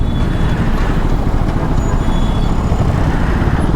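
Road traffic heard from an NS200 motorcycle on a night ride, a loud constant low rumble of engines and vehicles with steady wind and road noise and a faint high whine.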